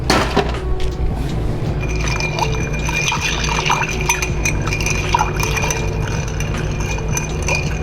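Ice cube dropped into an old fashioned glass while a chocolate old fashioned is mixed behind a bar, with liquid and glassy clinks over steady background hum, no speech.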